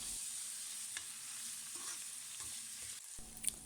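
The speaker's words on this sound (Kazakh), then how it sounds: "Қызып тұрған майға етімізді салып қуырамыз." Meat frying in hot oil, a steady broad sizzle with a few louder spits and crackles near the end as pieces settle in the pan.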